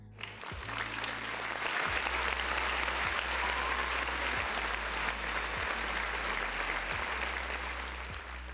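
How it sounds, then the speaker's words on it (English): Steady crowd applause for people in a livestream chat, loud and continuous for the whole stretch with no voices over it. "Round of applause for the folks in the chat."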